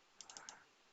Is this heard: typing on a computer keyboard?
yes